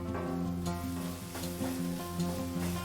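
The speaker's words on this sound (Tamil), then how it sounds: "இப்போ வெங்காயம் வதங்கிடுச்சு." Onions sauté in a pan for mushroom soup, cooked in oil or butter, and sizzle steadily and evenly throughout, with a low background hum and light stirring.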